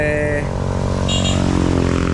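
Yamaha NMAX motor scooter being ridden, its engine a steady close drone throughout with a voice briefly over it.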